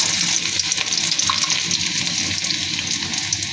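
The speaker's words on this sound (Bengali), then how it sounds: "এখন দিয়ে দিব পেঁয়াজ কুচি" Chopped onion frying in hot oil with fried chilli, a loud, dense, continuous sizzle and crackle that holds steady throughout.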